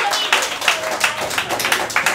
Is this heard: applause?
yes